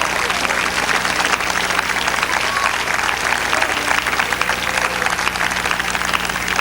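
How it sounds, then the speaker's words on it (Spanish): A church congregation applauds with steady, dense clapping that fills the whole stretch, a continuous wash of many hands at even loudness. "Dele un aplauso al Señor con todo su corazón."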